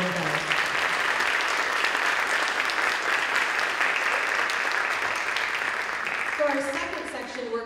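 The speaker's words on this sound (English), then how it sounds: "let's give all of them a warm welcome and round of applause" Sustained applause from an audience at a school safety night event, dense and steady for several seconds, then tapering toward the end as a few voices rise over the thinning claps.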